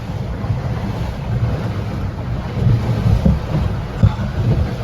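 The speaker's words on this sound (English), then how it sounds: "There's water coming over the leeward side here" A sailboat reaches across the Sea of Cortez in 14 to 15 knots of wind, water washing over the leeward side near the forward hatch; a loud rush of wind and churning waves with a few sharper splashes.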